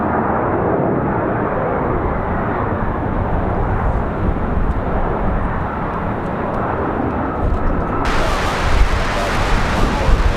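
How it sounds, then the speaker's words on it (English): Delta Endeavor jet landing at Raleigh Durham airport, a heavy sustained roar of engines and rolling that stays loud and near throughout, brightening into a harsher hiss toward the end. "Nice gentle touchdown for Delta."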